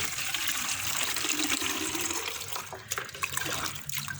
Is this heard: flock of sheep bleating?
no